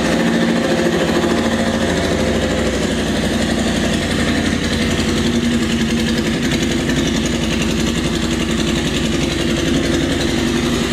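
Honda Mighty Rebel motorcycle with a custom exhaust idling on a cold start, a loud, steady, close-up engine drone with a fast even pulse and no voices over it.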